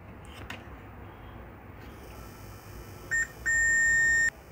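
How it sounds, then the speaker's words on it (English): A multimeter in continuity mode, probing a resistor on an HP 640 G2 laptop board that has no power, gives a short beep and then a longer steady tone under faint background hiss. "as I doubted, on this resistor there is a beep"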